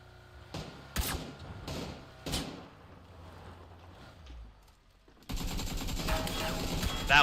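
Gunfire in PUBG, four sharp, loud shots spaced about half a second apart, followed by quieter shuffling and a sudden wash of steady ambient noise near the end.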